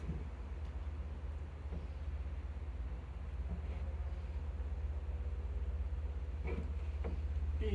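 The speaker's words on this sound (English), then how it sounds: "Oh, that is a diesel." A diesel engine runs steadily in the background, a constant low rumble with no breaks, sitting behind faint broadband noise near a high-velocity fan being repaired.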